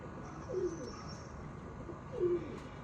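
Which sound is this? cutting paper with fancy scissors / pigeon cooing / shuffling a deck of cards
pigeon cooing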